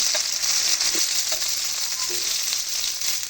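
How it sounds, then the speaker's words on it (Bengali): Boiled potatoes fry in a pan with a loud, dense, continuous sizzle, close and even throughout, with faint clicks of a utensil now and then. "এখন আলুগুলো ভেজে নেব"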